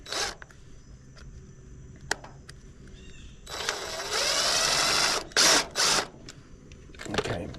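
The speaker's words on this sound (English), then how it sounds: "I'm just gonna take the drill, hit it real quick just to make a mark" A power drill bites briefly into a plastic trailer part to mark a spot, giving a short whirring burst followed by a few quick buzzy pulses and scattered clicks in a quiet workshop.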